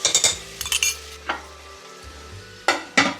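Ginger garlic paste sizzles in a hot pan for chicken fry, a crackling hiss broken by several sharp metallic scrapes and clinks of a spoon stirring, close and fairly loud.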